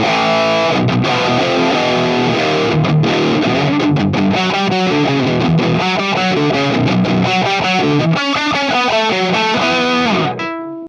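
An electric guitar plays through a modded Boss SD-1 overdrive pedal in OD mode, loud and distorted, with strummed chords and fast riffing notes for about ten seconds before ringing out.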